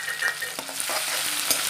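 Chilli, garlic and cumin drop into hot oil for a desi nal bhaji tempering, producing a brief, steady close-up sizzle with a couple of quick stirring taps.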